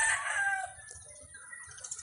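A rooster crows briefly on a backyard farm, a bright close call at the start that trails off, followed by faint low clucking and murmuring fowl in the background.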